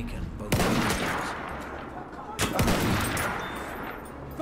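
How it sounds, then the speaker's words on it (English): Enemy artillery barrage in a Battlefield 1 cavalry rush, with two heavy booming blasts separated by a couple of seconds over a constant rumbling din of battle, loud and close. "Wait for the enemy artillery barrage to stop firing."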